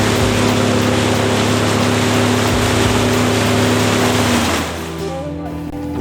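A loud, steady boat motor drone with strong low hum runs throughout, easing slightly near the end, with water noise around it, in Antarctica near Paradise Harbor.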